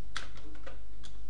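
A computer keyboard is pressed for a Ctrl+F9 shortcut followed by Enter, giving a few sharp, close plastic clicks spaced unevenly over a second, with a steady low hum underneath.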